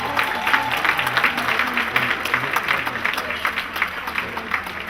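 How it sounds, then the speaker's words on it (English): An audience claps for Dr. Fobi at an African family induction ceremony in Los Angeles, a steady moderate round of applause with faint crowd murmur beneath. "Give him a round of applause,"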